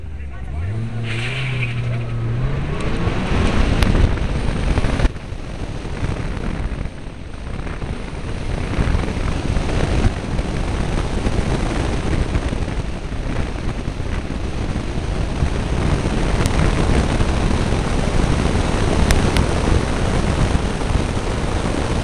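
A Renault Twingo R1 rally car at a rally sprint shakedown drives through a hall, its engine rising in pitch early and then holding a loud, steady buzzing drone, with people talking.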